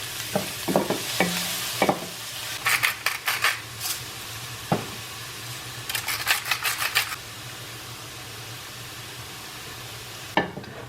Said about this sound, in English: I'm just stirring this around and sauteing it, and I'm going to let the onions just get a little bit translucent